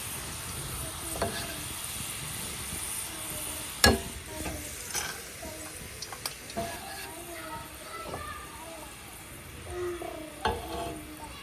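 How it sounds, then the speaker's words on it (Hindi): Chana dal frying in hot oil with a soft continuous sizzle, interrupted by stirring and scooping clinks and scrapes from a slotted spoon, close and moderately quiet. "हमारे चने ऑयल के ऊपर बिल्कुल आ चुके हैं"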